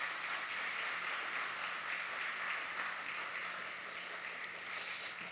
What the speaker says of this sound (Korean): 박수로 맞으시기 바랍니다.